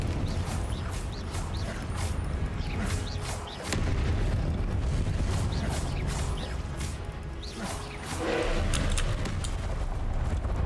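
Confringo spell blasts in Hogwarts Legacy gameplay, repeated booming explosions and crashing impacts with clattering debris over dense game action, with brief dips between bursts and no clear talk.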